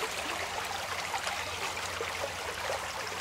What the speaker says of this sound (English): That's my creek. It's flowing a little bit more than usual still.